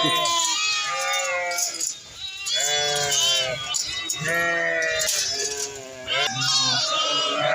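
A flock of sheep bleating loudly and close as they are let out in the evening at the fold, overlapping cries repeating one after another with little pause.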